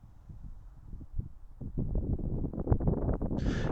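Cold wind gusts across the microphone outdoors at a winter fishing match, starting as soft low buffeting and building into stronger, louder rumbling, with a brief burst of hiss at the very end.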